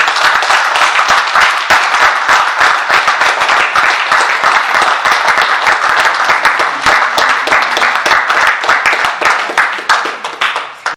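Sustained, dense applause and cheering from an audience at a political gathering, loud and steady for about ten seconds with many overlapping hand claps, tapering slightly at the end.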